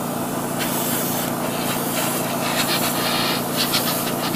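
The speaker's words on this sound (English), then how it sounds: "Spray the back like that." A steady hiss of an airbrush spraying paint on a Revell 1/4000 Imperial Star Destroyer model, continuous and close, with slight pulses in the upper hiss toward the end.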